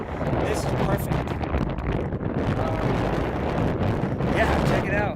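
Strong wind gusts across an exposed ridge on Mt. Adams in the Cascades during a backcountry ski tour, a loud, steady roar buffeting the microphone throughout, with a voice talking over it.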